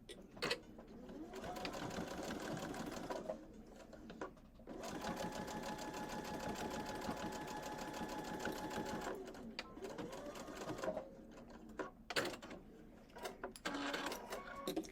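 A sewing machine stitches a second reinforcing line along the boxed corner of a patchwork pouch, running in close, rapid bursts separated by short pauses and clicks, with no talking.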